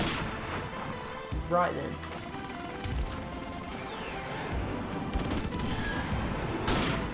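Gunfire in a first-person shooter video game: scattered bursts of shots and impacts at irregular intervals under a steady game soundscape, with someone talking over it.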